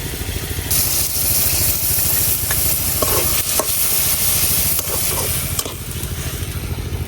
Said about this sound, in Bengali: এখন সবগুলা মশলা একটু ভালো করে কষাই নিলাম